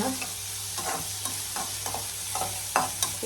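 Chopped onions sizzle in hot oil in a pan for a greens palya, with a steady loud frying hiss broken by scraping stirs of a spatula at close range.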